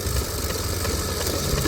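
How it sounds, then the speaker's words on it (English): Tom Thumb air-cooled hit-and-miss engine at a flywheelers show, running steadily with a close, continuous mechanical chug and no talk over it. "this is a Tom Thumb air-cooled engine"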